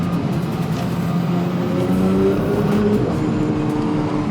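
A 2022 Porsche 992 GT3 engine pulls hard under throttle, a loud sustained roar with rising harmonic tones that carries steadily for several seconds, with no talking over it.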